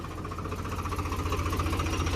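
A tractor engine idles nearby with a steady, rapid knocking chug, the even mechanical pulses repeating throughout with no talk over them.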